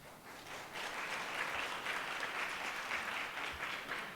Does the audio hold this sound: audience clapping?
yes